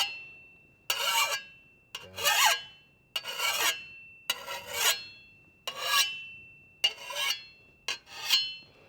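A garden tool blade is sharpened with a file in seven distinct rasping strokes, each about half a second long, close up and evenly spaced, with brief silences between strokes.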